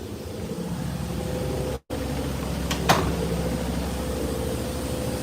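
A washing machine runs at home as a steady broadband hum and whir with a low mechanical drone, continuous for several seconds apart from a brief dropout and a faint click.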